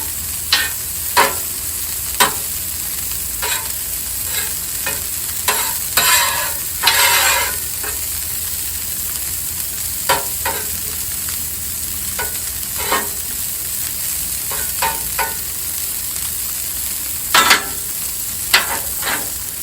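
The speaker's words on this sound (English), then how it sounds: "Cooking the onions put on there." Onions cook on a Blackstone griddle under a steady sizzle for about twenty seconds. A spatula scrapes and taps the metal surface in irregular, sharp strikes, with a louder scraping stretch near the middle.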